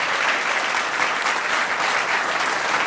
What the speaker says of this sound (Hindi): Please put your hands together for Mrs.